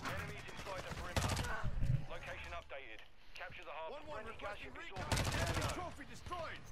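A gunship in the Call of Duty video game fires, sounding as rapid, loud bursts of gunfire that come in two strong volleys, heard under excited talking and game effects.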